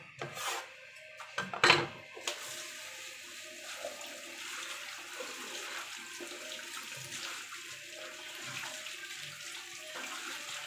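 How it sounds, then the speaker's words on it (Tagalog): Cabbage being rinsed under running water, with a tap stream and splashing that is loudest in the first two seconds and then settles into a steady, moderate wash. "Siyempre, pwede hugasin ang ating repolyo."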